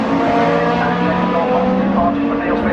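Historic Super Tourer race cars at Donington, including a Volvo S40 and an MG, their engines roaring together in a loud, sustained howl with steady whining tones and commentary over it.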